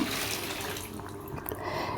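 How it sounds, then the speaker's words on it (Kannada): Water is poured over cleaned leafy greens in a kitchen, a running splash with soft clinks of a vessel and a brief louder splash near the end. "ಸೊಪ್ಪನ್ನೆಲ್ಲ ಕ್ಲೀನ್ ಮಾಡಿಕೊಂಡು ನೀರು ಹಾಕ್ತಾಯಿದ್ದೀನಿ"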